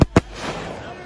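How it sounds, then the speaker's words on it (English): Two sharp, close firework blasts go off in quick succession, loud and percussive, followed by a brief crackling tail as the bursts fade, at a risky stunt where fireworks are set off dangerously near the people. "it's raining fireworks"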